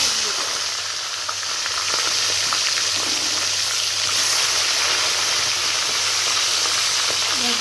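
A fish head fries in hot oil in a wok over a gas flame, giving a continuous, close sizzle with crackling pops and no talk.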